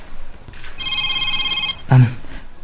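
Cellphone ringing in an Ilocano drama scene, a steady electronic ring tone lasting about a second, with brief voice-like sounds near it.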